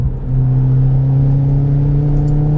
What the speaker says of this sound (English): If you're trying to rev it up through fourth, it's a bit laggy, isn't it?